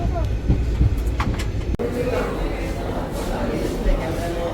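The Uttar Banga Express from Sealdah to NJP rumbles along with a low, continuous rolling noise and a brief clank, while people talk over it.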